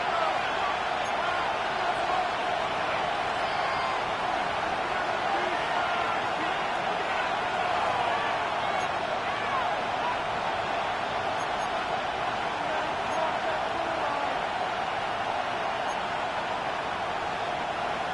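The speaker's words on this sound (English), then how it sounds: "This crowd trying to be a factor, getting very loud now." Stadium crowd noise in an EA Sports football video game, a dense continuous roar that stays loud and even throughout with no clear peaks.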